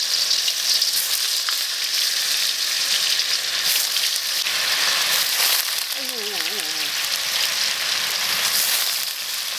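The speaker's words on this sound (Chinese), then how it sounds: "再把这个豆腐下进去。" Tofu slices fry in salted oil in a pan, giving a loud, dense, continuous sizzle with a brief bird-like chirp partway through.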